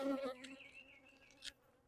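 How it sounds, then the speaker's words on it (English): Honeybees buzz around a beekeeper working hives while treating for Varroa mites, a faint, wavering hum of a few insects passing close by, rising and fading, with no talk. "And I got bees buzzing me."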